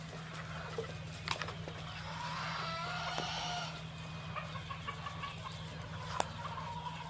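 Egyptian Fayoumi chickens cluck softly now and then over a steady low hum, with a few sharper calls standing out against a busy outdoor background.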